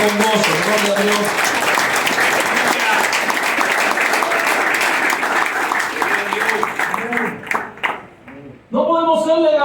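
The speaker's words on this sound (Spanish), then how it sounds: "Y le va a aplaudir al Señor, hágalo con gozo" Congregation applauding during a Spanish-language church sermon at an evangelistic campaign, loud sustained clapping from many hands with a preacher's voice speaking over it, the clapping tapering off near the end as his voice comes through clearly.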